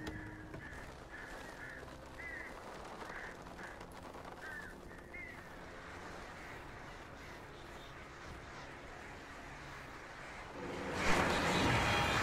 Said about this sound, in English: Shit, birds.